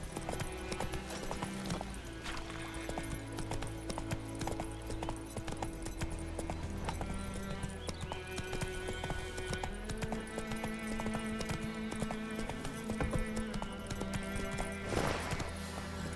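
Hoofbeats of the horse Roach galloping in The Witcher 3 clip-clop steadily throughout, with an occasional whinny, layered over game music and ambience.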